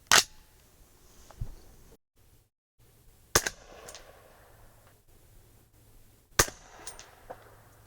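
Three sharp suppressed rifle reports fired through a SilencerCo Omega 36M suppressor, spaced about three seconds apart, each a loud close crack with a short ringing tail and quiet gaps between.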